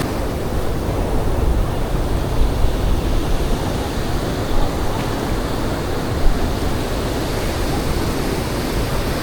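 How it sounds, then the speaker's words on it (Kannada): Ocean waves breaking continuously on Panambur beach, a dense, steady roar of surf with wind noise across the microphone and no talk. "ಸ್ನೇಹಿತರೆ ನೋಡ್ಬೋದು, ಅಲೆಗಳು ಬರ್ತಾ ಇದೆ."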